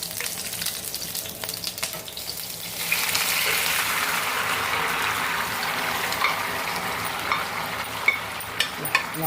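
Mutton pieces hit hot oil in a frying pan with a bright sizzle that swells after a few seconds and stays steady, close by, with faint stirring and clinks, no talking.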